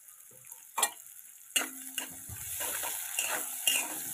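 Onion dropped into hot oil in a pan for a Maharashtrian matki bhaji, giving a soft sizzle with scattered clinks and stirring taps, fairly quiet and close.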